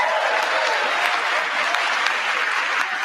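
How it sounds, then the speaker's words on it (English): Sustained loud applause from the audience during a presidential speech to Congress, a dense, even roar of clapping that fills the whole stretch with no pauses. "How well can you hear me over the applause?"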